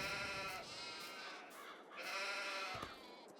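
Sheep on a farm pasture in Farming Simulator 22 bleat several times in a row, loud and close, with no other sound around them.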